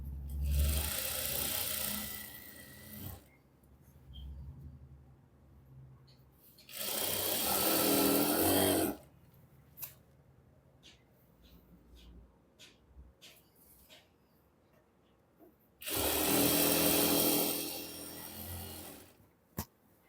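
A domestic sewing machine stitches a palazzo seam in three separate bursts of steady, rapid whirring, each a couple of seconds long, with quiet handling sounds in the pauses between.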